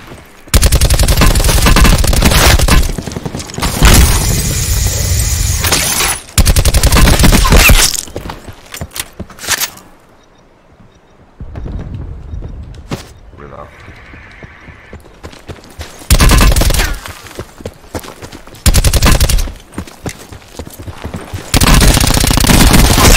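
Gunfire in Call of Duty Black Ops multiplayer arrives as loud, dense bursts of rapid automatic shots separated by quiet gaps, close and intense, with no talk.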